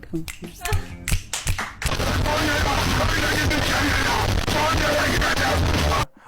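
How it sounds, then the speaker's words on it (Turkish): Hand clapping in a casual reaction-style setting, starting with a few sharp, separate claps and then running into a dense, steady burst of clapping that lasts several seconds before stopping abruptly. "Sana alkış"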